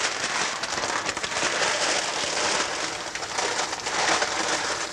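Running water pours steadily onto a sheet of parchment paper, making a dense, continuous crackling splatter that holds at the same loudness from start to finish, close up and with no talking.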